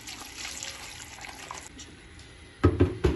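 Water pours from a tap into a pot of washed spinach, a soft steady trickle at first, then a few louder splashing gushes near the end, close by with no talk.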